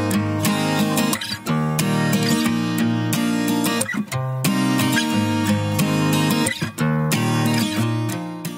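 A well-recorded guitar part plays continuously for several seconds, loud and full, with rhythmic strummed chords and brief dips between phrases, heard alone without voices.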